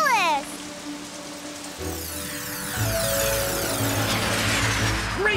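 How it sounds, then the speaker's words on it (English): Cartoon magic rain falls from rain clouds made by a unicorn's horn: rising whooshing sweeps give way to a steady, fairly loud rain hiss that continues to the end. "She's using her magic horn to make rain clouds!"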